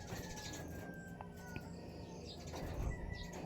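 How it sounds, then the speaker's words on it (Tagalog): Outdoors, nearby birds give faint calls, chirps and coos, with a soft flutter of wings over a steady background hum. "Naglalaro yung mga ibon dyan."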